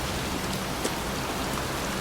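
Steady rain pours down in a cemetery in the video game Heavy Rain, a dense, even hiss that fills the whole moment with no voices.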